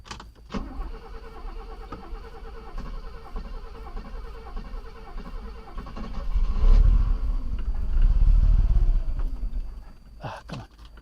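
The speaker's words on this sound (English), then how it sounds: "You can hear the fuel pump working." A restored Mercedes car runs nearby with a steady hum and faint rhythmic mechanical ticking, the engine swelling louder in the middle before easing off, with brief clatters at the start and end.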